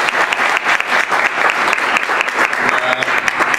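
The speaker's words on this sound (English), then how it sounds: "Let's give you a round of applause." A room of people at a business forum gives a round of loud, brisk applause, with distinct claps pattering steadily throughout and no pause.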